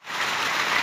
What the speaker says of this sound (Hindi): मेरे यहाँ कुछ ऐसी आवाज़ें होती है जब बारिश होती है।